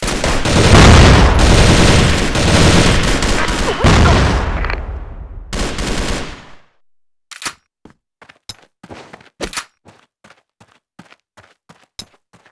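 A heavy grenade blast and burst of gunfire in the shooter game Crossfire, a loud sustained roar for several seconds, then scattered sharp single shots after a brief silence.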